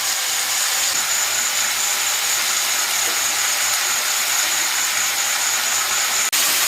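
Steady, loud sizzling of chopped tomato dropped into hot oil for chicken kosha, a continuous even hiss with no talking.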